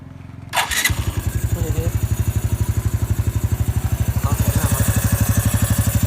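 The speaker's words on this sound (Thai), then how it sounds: "เดี๋ยวฟังเสียงเครื่องกัน" A Honda-style 110i small motorcycle engine fitted with a small big-bore kit cranks and starts, then settles into a steady, even idle with a rapid putter, loud and close, alone without talk.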